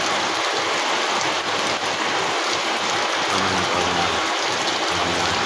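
The first monsoon rain pours down in a village, a loud continuous hiss of drops pattering on surfaces with some splashing, steady from start to finish and free of speech.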